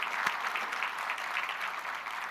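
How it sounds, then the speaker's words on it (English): Applause from a conference audience at a general session and awards celebration, a steady dense wash of many hands clapping at moderate level, sustained without pause. "let's give them a round of applause"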